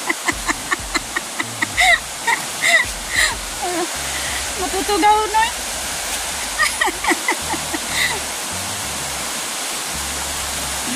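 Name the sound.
rushing flood water in a river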